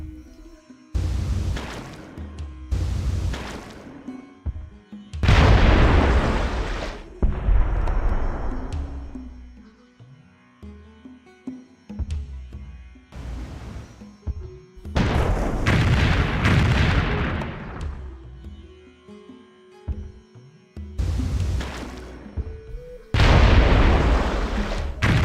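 Bombing run in Civilization III: a series of heavy, booming explosions and rumbling blasts, loud and close, arriving in repeated clusters separated by short lulls of quieter game background.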